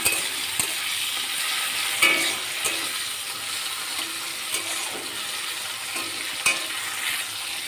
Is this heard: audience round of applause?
no